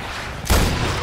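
An explosion goes off in the video game Far Cry 4, a single sudden heavy boom that breaks a quiet background and then rumbles on briefly.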